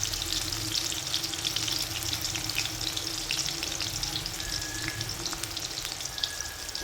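Chickpeas for chana koliwada deep fry in hot oil, giving a steady, dense, crackling sizzle that stays loud and close throughout.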